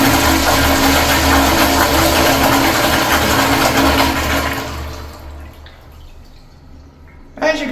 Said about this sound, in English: the flush is pretty standard for a blowout toilet